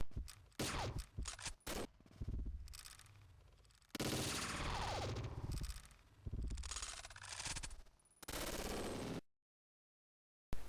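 Sniper rifles fire in the Combat Arms shooter game, with loud, sharp shots and rapid bursts at the start, followed by longer blasts and their ringing tails before a sudden silence near the end.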